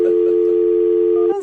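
A telephone dial tone heard as a call is placed, a loud, steady continuous hum that runs almost unbroken before cutting off abruptly at the end.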